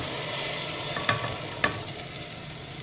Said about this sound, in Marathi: आता त्याच्यामध्ये आपण हे उडीद दाल घालूया